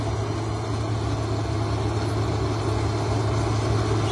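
A sugarcane harvester machine runs with a steady, loud low engine drone and a constant mechanical hum, unbroken for the whole stretch and heard close without any talk.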